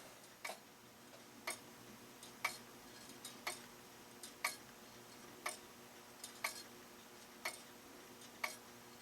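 Faint, steady ticking from the exposed gear train of a Hardy & Hayes nine-tube grandfather clock, with crisp ticks spaced about a second apart over a quiet background hum.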